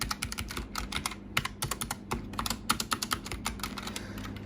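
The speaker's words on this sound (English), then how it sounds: "Typing I feel is good, as we not like very much sound from this keyboard." Steady, fast typing on a Logitech G915 Lightspeed TKL wireless gaming keyboard, with crisp, fairly soft key clicks in an uneven rhythm, close up and alone, with a faint low hum underneath.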